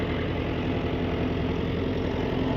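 A Ford 77 farm tractor engine idles steadily with a low, even rumble and a faint hum, running continuously without change.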